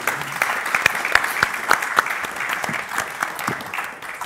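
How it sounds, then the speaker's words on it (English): Applause from the audience at the closing of the UPU World Leaders Forum 2022 for the event crew, sharp individual claps standing out in a moderate, steady round of clapping that gradually thins toward the end. "So they deserve a special applause."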